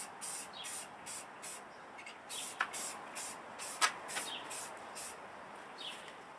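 A Canadian Tire Premier spray paint can hisses in a series of short, even bursts with brief gaps between them. Quiet overall, with a couple of faint clicks.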